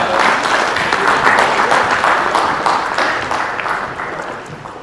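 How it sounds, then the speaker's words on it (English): Large audience at an entrepreneurship conclave applauding a speaker, a loud dense wash of clapping that holds steady and then gradually fades. "A big round of applause for Mr."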